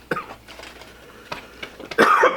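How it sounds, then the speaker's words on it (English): A few sharp coughs and throat-clearing bursts, close and fairly loud, spaced over a couple of seconds with a heavier rough burst at the end. "Now I'm coughing."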